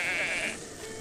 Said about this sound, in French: Il y avait des moutons.